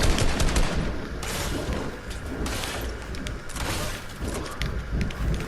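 Video game gunfire in a random ammo box challenge: sustained bursts of automatic shots and scattered single cracks, loud and close, continuing throughout without talk.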